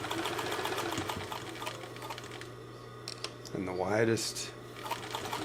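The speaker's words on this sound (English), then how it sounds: "if I just kind of start creeping up my stitch width, I'll just immediately start sewing a zigzag." A Chandler industrial sewing machine, a Bernina 950, runs a zigzag stitch with a steady mechanical hum and rhythmic needle clatter, while a person talks over it.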